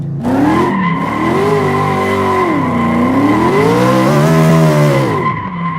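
A car's engine revs and pitches up and down while its tires squeal and skid continuously, loud and close, with the wheel sound wavering as the car slides through turns.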